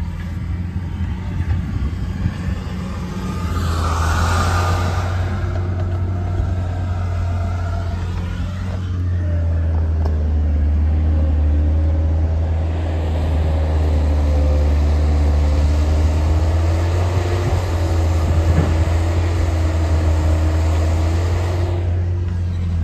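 A farm vehicle droning steadily as it drives around a hay field collecting bales, its low engine hum constant and fairly close for over twenty seconds, swelling slightly at times, with no talk over it.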